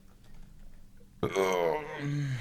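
A person lets out one long, loud, deep burp after drinking hot sauce, starting abruptly after a quiet moment and rumbling on to the end.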